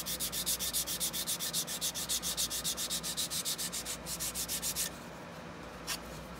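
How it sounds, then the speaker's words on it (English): Rapid rhythmic strokes of sandpaper rub a seam on a 1/64 scale model building converted from an HO kit, close and steady, then stop into quiet. "if you feel too much of a seam catch, you know you have to sand it down"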